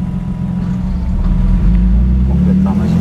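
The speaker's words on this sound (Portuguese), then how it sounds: "Está dando uma marcha lenta boa, está fácil de guiar, não tem uma surpresa, não engasga, não faz nada." A Ford Fox fitted with a V6 biturbo engine and rear-wheel drive idles steadily with a deep, close, continuous rumble that swells slightly as it revs, with no stumbling throughout.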